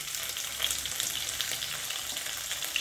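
Cumin and mustard seeds sizzling in hot oil for a Khandeshi urad dal curry, a dense continuous crackle with small popping bursts, close and steady.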